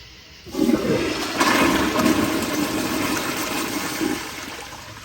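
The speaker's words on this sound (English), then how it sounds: "We're going for a second flush." Kohler Kingston 1.6 gpf toilet flushing with a loud rush of water that starts abruptly and roars steadily for several seconds, close up, with no talking.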